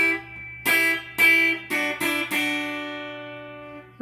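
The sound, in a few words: second guitar part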